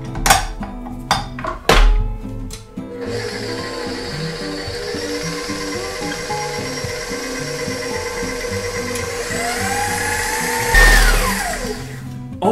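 A stand mixer churns gluten-free bagel dough of bread mix, oil and water, starting with a few bangs and clatters and then settling into a loud, steady motor whir with rising whine near the end.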